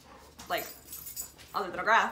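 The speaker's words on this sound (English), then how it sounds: "I'm sorry for my loud dog." A dog gives two loud barks indoors, close by, about a second apart, over a person who keeps talking.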